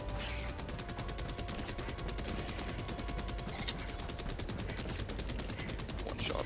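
Continuous rapid gunfire in the video game Helldivers 2, a loud steady stream of evenly spaced shots that runs without a break, close and dense throughout.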